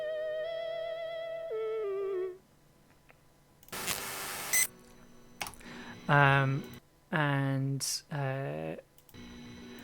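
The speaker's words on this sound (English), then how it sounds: "It's a very wobbly theremin." A wobbly theremin fed through delay and a guitar amp sings a wavering, vibrato-laden tone that slides down and fades, followed by short bursts of noise and a voice speaking.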